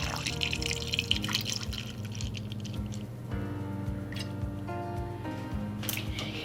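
Liquid candle wax pours and drips into a silicone mold, a continuous watery trickle with small splashes and drips, close up, over a faint background hum.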